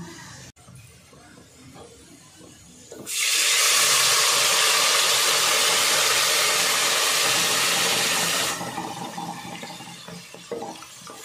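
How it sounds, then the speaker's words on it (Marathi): Colocasia (taro) leaves drop into a hot garlic tempering of crushed, browned cloves, bursting into a loud, close sizzle that holds steady for several seconds before easing into a quieter crackle. "अळू टाकूया आपण फोडणीला"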